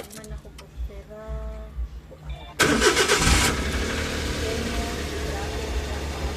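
A Suzuki DA64W is cranked and starts after a few seconds of quiet talking, its engine catching with a loud burst and then settling into a steady, close idle.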